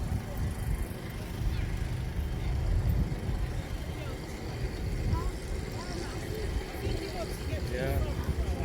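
A Messerschmitt Bf 109 taxis at a Battle of Britain air show at Headcorn, a low engine rumble rolling through the air amid outdoor crowd noise and nearby voices.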